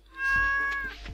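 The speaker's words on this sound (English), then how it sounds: "Meow." A cat in the Stardew Valley video game gives one clear, rising-and-falling meow, close and alone, lasting most of a second.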